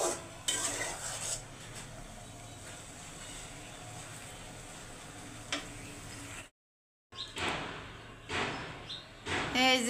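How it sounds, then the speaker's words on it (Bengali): Okra (bhindi bhaji) fries in a pan with a low steady sizzle under sharp clinks and scrapes of a utensil being stirred. After a brief silent gap the stirring clatters return. "ভিন্ডি ভাজি করতেছি, ভিন্ডি ভাজিটা বসাইয়ে দিছি"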